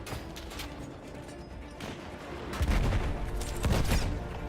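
Sustained enemy gunfire in the Battlefield 6 video game, a dense fusillade of rapid shots and cracks that swells louder in bursts toward the end, with no talking.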